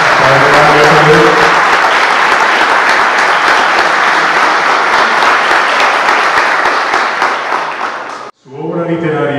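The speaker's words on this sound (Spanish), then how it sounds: "démosle un aplauso de bienvenida a Padre Mario" An audience at a book launch gives sustained, dense applause to welcome Padre Mario. The clapping is loud and steady and stops abruptly near the end, when a voice begins speaking.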